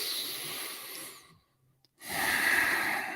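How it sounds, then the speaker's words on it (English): One person draws a slow, deep inhale through the nose, a soft airy hiss lasting about a second, then a brief pause and a long, steady breath out. "Take a deep inhale."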